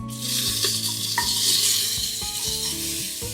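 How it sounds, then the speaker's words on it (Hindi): Vegetables hit a pan of hot butter and a little oil for tomato soup and sizzle steadily, close and loud, with a spoon stirring and scraping against the pan in short repeated strokes. "अभी हमारी जो सब्जियां ही डाल देंगे इसमें।"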